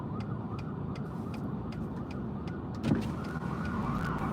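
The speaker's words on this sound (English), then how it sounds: "I hear sirens." Emergency sirens wail from a distance, a faint, steady rising and falling tone over low traffic rumble, with no voices.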